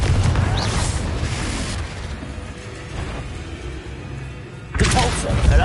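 In Hogwarts Legacy, a Confringo spell blast booms loudly at the opening and fades into a rumbling tail, then a second heavy burst hits near the end. Someone talks in between.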